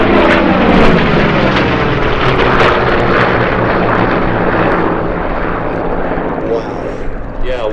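WWII warbird propeller aircraft, including an F8F Bearcat, FM-2 Wildcat and Corsairs, roar loudly overhead at Sywell airshow, a sustained, powerful piston drone that slowly fades, with people talking underneath.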